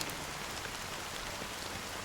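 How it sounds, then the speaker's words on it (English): Steady rain falls in the Honkai: Star Rail video game, a soft, even, continuous patter at low volume with no voices. "it's still raining."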